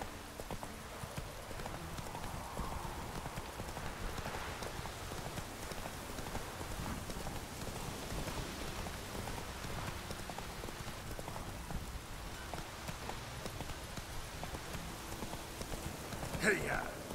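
Horse hooves clip-clop at a steady gallop through rain in Witcher 3, the patter of rainfall filling the background throughout while the hoofbeats stay close and even.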